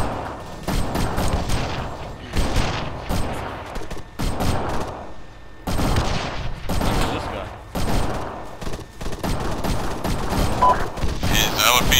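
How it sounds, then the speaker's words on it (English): Rapid bursts of enemy gunfire in Arma 3, with loud volleys and sharp shots repeating irregularly across the scene and continuing throughout, mixed with some distant booms. "That's enemy fire."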